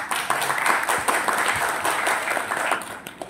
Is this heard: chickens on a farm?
no